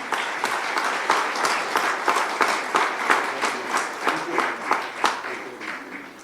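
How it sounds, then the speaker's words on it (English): Audience at an annual session applauding a chief guest, a dense wash of many hands clapping close and loud, with rhythmic surges running throughout. "big round of applause"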